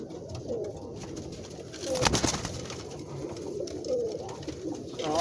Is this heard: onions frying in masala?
no